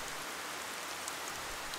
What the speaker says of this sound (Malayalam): അപ്പോഴും മഴ പെയ്തുകൊണ്ടേയിരുന്നു